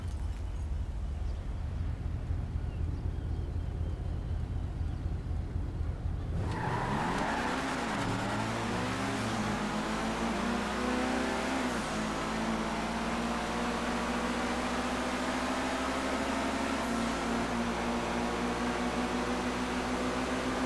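Sports car revving hard and accelerating in GTA Online, an Itali GTV Custom-style performance run with a sudden loud engine surge, climbing gear whine and tire noise sustained over a long stretch of dense race ambience.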